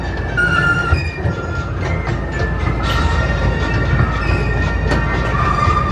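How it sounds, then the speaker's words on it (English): A ride train at Thomas Land, Drayton Manor Resort, rolls into Knapford Station with a steady rumble of wheels on track and thin metallic squeals and clanks scattered across it, loud and close, with no talk. "So we'll exit the train back here at Knapford Station"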